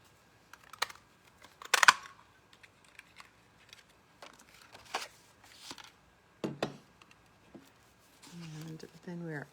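Scissors snip out a paper heart shape for a handmade card: a scatter of short, crisp cuts and paper rustles at close range, with a brief voice near the end.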